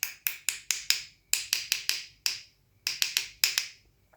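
A Megacuda metal-frame baitcasting fishing reel clicks sharply and crisply, about sixteen bright ticks in quick bursts with short pauses between. The clicks are close, loud and alone, with no talking.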